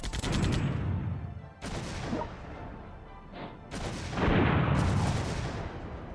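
Massed artillery and gunfire from generals' units in the strategy game World Conqueror 3, with several heavy booming salvos that each start sharply and fade, separated by short lulls.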